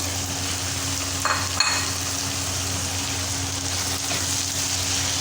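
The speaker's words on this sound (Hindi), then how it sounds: "अब उसके बीच में मैंने अरवी और वो जो आलू फ्राई किए थे वो, और इसके साथ ही मैं टमाटर डाल दूँगी।" Taro and potatoes with tomatoes frying in dry onion masala, a steady close sizzle with a couple of brief stirring clinks, alone without talk.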